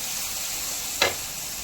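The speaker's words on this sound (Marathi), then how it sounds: "कांद्याचा पेस्ट घातलेला आहे। हे मसाला मस्त तेलामध्ये छान होऊ द्यायचा।" Garlic and onion masala paste frying in oil for a mushroom curry, a steady soft sizzle running throughout, with one brief louder crackle partway through.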